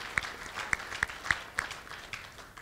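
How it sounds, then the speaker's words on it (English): An audience at a school athletic hall of fame ceremony gives a modest round of applause, scattered sharp claps standing out over a soft wash of clapping, fairly distant and quiet. "So let's give him another round of applause."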